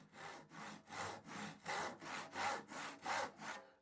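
A hand saw cuts through wood held against a clamped straight-edged guide, giving eight steady rasping push-pull strokes in an even rhythm, close and clear with no talking.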